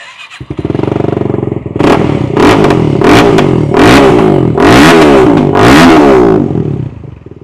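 2022 Benelli Leoncino 250 SE motorcycle with an Akrapovic full-system exhaust starting with a cranking burst, then settling into idle punctuated by several sharp throttle blips, loud and close, no voices.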